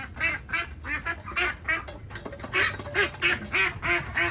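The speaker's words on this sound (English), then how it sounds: "They're so noisy. These are some ducklings that I hatched myself." Home-hatched ducklings in a Caribbean yard quack loudly and repeatedly at close range, a steady rhythm of overlapping nasal calls with no talking.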